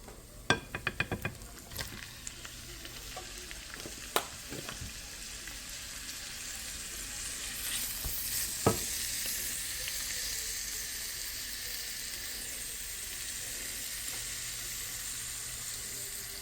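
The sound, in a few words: minced meat frying with fried onion in pan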